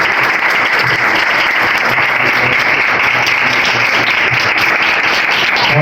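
A church congregation gives loud, sustained applause during a Sunday service. The massed clapping is close, even and unbroken throughout.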